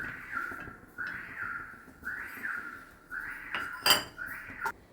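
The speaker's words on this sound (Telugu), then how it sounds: "ఇది నేను ఇప్పుడు ఈ మౌల్డ్లో వేస్తున్నాను." Cut homemade soap pieces dropped into a mould, making a series of light, rhythmic clinks and clatters roughly once a second, fairly close and without speech.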